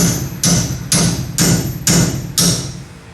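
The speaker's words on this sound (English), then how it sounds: "So don't go ape crazy with the chisel." Hammer drives a chisel against an outer axle seal on a 2003 Chevy truck with a GM locker, six sharp metallic blows struck at a steady, even pace, close and loud with no talking.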